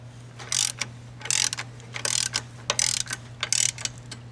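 A car accessory belt tensioner on a Subaru WRX is tightened with a ratchet, producing bursts of quick metallic clicking in several short strokes separated by brief pauses over a steady low hum.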